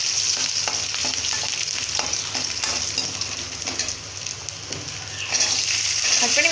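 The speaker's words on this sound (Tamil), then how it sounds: "பூண்டு, கருவேப்பிலை சேர்த்திக்கலாம்." Garlic and curry leaves frying in hot oil with mustard seeds and cumin, a steady loud sizzle with crackling pops and occasional stirring scrapes throughout, no talking.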